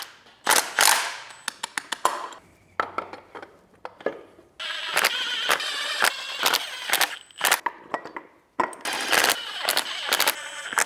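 A tool works loose a bracket on a BMW F10 engine, sounding as close, irregular ratcheting clicks and sharp metallic taps in clusters, with brief pauses between bursts.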